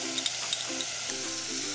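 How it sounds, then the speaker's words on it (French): Onions fry in olive oil in a pan with a soft, steady sizzle, punctuated by a few light stirring clicks, close and fairly quiet. "nous allons faire revenir les oignons dans de l'huile d'olive"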